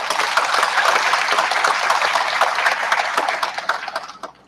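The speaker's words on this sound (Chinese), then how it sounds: "我们用热烈的掌声欢迎他们" Members of the Hualien County Council chamber give a hearty round of applause to a visiting delegation, loud, dense clapping from many hands sustained evenly and then trailing off quickly.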